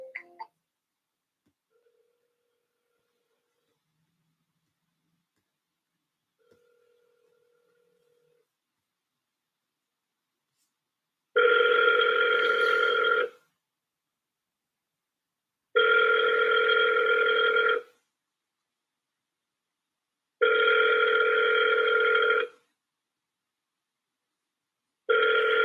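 Outgoing ringback on a phone call to a real estate company, heard after a near-silent stretch as four evenly spaced ring tones, each about two seconds long with roughly two-second gaps, steady and fairly loud.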